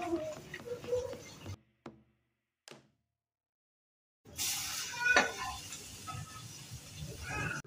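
A homemade burger patty sizzles in a frying pan, a steady close hiss that starts after a few quiet moments, with earlier clinks of utensils against the pan.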